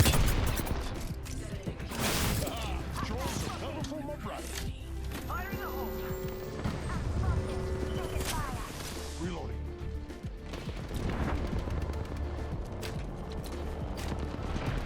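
Rapid bursts of Spitfire machine gun fire in Apex Legends, many overlapping volleys crackling through a busy firefight, with a player talking over the shooting throughout.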